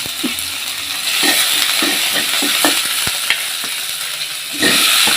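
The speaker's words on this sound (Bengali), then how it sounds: "পেঁয়াজ কুচি দিয়ে দিলাম" Chopped onion sizzles and crackles as it goes into hot oil in a pan for a mustard egg dish, steady and close throughout with occasional stirring clinks and a louder burst near the end.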